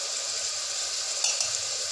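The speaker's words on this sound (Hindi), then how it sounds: "मसाले को हम अच्छे से चला लेंगे" Chili, coriander and turmeric powders frying in oil with bottle gourd, a steady close hiss of sizzling with a couple of soft scraping stirs partway through.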